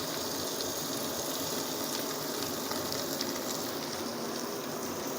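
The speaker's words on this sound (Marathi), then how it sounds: "आता आपण याच्यामध्ये बारीक चॉप केलेले टॉमॅटो घालून घेऊया." Finely chopped tomatoes hit fried onions in a pan for Marathi masala rice. A steady, close sizzle of frying holds evenly throughout with no talking.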